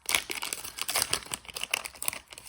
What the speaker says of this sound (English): We are struggling with the scissors today.